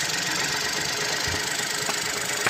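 Geely Coolray 1.5L engine running after repair of an oil-gas separator diaphragm leak, a steady close idling hum with a faint ticking knock, loud and continuous with no talking.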